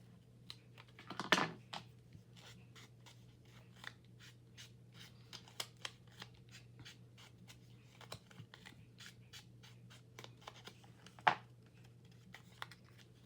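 Scissors snip a paper piece for a collage, quiet close cuts with two sharper snips standing out among faint scattered paper ticks over a low steady hum.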